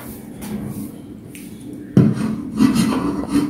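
Fabric for an umbrella kurti is cut in a round shape, giving a dry rasping, rubbing sound that starts soft and grows louder and steadier in the second half, with no talking.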